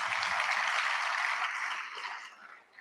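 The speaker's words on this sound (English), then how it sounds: "Can you give them a big round of applause as well?" Audience applause fills an awards event hall, steady and dense clapping that holds for a couple of seconds and then thins and fades out.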